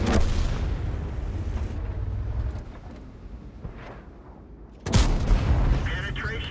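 In a tank video game, heavy artillery fire lands as deep, rolling booms, with one loud blast at the start and another sharp burst later, and rumbling fades in between.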